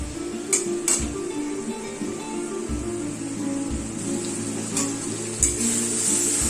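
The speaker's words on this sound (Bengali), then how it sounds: "চুলার আঁচটাকে মিডিয়াম রেখে আরো মিনিট 5 মশলাটাকে কষিয়ে নিতে হবে" Spiced masala with tomato sauce cooking over medium heat, a soft continuous sizzle under occasional clinks and scrapes of a utensil against the pan, with no talking.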